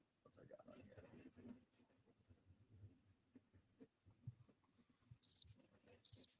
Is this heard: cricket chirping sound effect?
yes